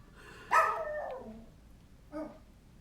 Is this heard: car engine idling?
no